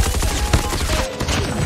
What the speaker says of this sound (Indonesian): Shotgun ya.